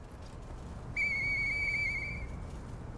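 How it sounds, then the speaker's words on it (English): A single clear, steady whistle from Murphy's whistle in the video game Lies of P. It rings out alone for about a second over quiet background ambience. "I know that whistle."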